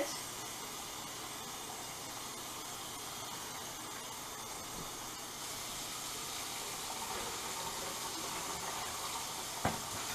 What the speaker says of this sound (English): Now we want to add some cold water to your tea bags.